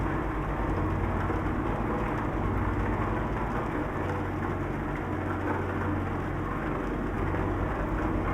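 Steady rain drums on a bus while driving in dark weather in Euro Truck Simulator 2, with a continuous dense wash of patter over a low engine and road rumble, even and unbroken throughout.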